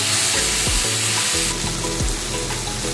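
Vegetables fry in a pan, a loud close sizzle with a few stirring scrapes, and the hiss brightens partway through. Music plays underneath.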